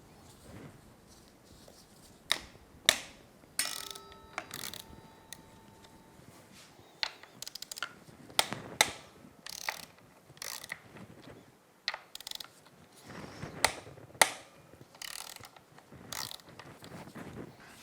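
A ratchet works loose the four 10mm axle pinch bolts on the fork of a 2005 Honda CRF450-R dirt bike, giving quick bursts of close, crisp clicking separated by short pauses, with no talk.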